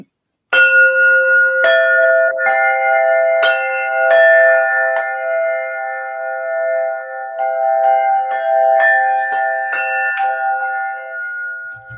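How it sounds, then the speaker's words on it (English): Crystalline bells ringing with bright sustained tones, struck repeatedly at an unhurried pace, each strike shimmering into long overlapping resonance, close and clear. "Crystalline bells. May you feel those through your energy field."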